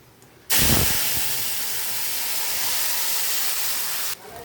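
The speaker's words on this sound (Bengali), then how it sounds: "এবার এই বাটাটা আমি দিয়ে দেবো।" A paste of ground cauliflower leaves hits hot oil tempered with black cumin seeds, bursting into a loud, steady hiss that holds for several seconds before cutting off abruptly.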